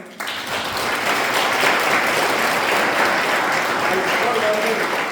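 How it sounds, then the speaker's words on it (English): Audience at a cyber security awareness program for medical professionals breaking into sustained applause, dense even clapping that starts abruptly and continues steadily throughout. "from the audience we expect a huge round of applause for him."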